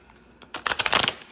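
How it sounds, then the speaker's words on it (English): A deck of tarot-style reading cards is riffled in one quick, close burst of crisp flutters lasting under a second, with no talking. "So these cards are always so difficult and hard to shuffle."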